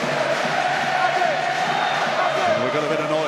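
Leeds rugby league fans in a stadium at a cup semi-final against Warrington, a steady roar of crowd cheering and shouting that carries evenly throughout.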